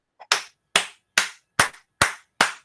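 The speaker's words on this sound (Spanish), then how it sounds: "Dime el nombre y te aplaudo con todas las ganas." In a classroom, a teacher claps for a student: six loud, separate claps close by at a steady, unhurried pace, with a faint tap just before the first.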